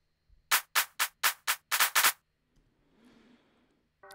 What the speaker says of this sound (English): So the claps sound like this.